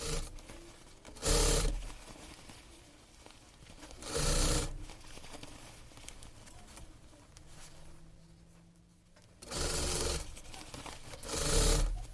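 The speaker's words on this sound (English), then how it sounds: "now I'm just gonna sew it all around 1/4 from the edge" A sewing machine stitches around the edge of a shirt sleeve, four short, fairly quiet bursts of rapid needle whirring separated by pauses of faint handling and fabric rustle.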